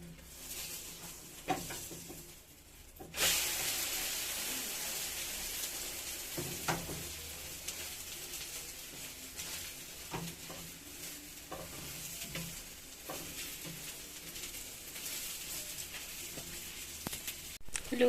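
Egg omelette for a Spanish omelette frying in a pan gives a steady, close sizzle that jumps louder after a clatter of turning it, with scattered pops and scrapes throughout.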